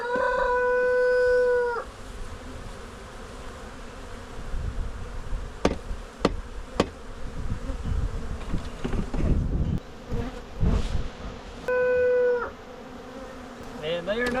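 Honey bees buzz as workers are swept down into a hive box, an agitated hum rising in bursts with a few sharp knocks and scrapes, and steady tonal droning at the start and near the end.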